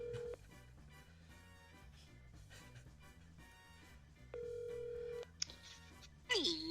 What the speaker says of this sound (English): So, calling Danielle Stewart. Can you guys hear the phone okay?